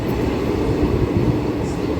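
The Tirupati–Coimbatore Intercity Express with LHB coaches rolls past as a loud, steady rumble of wheels and carriages, with no clear breaks or horn.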